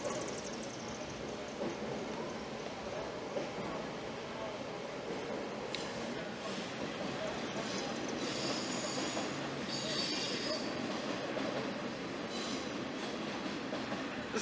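A train rumbles past steadily with metallic wheel squeal and faint clatter, continuous and fairly close, with a voice faintly audible underneath.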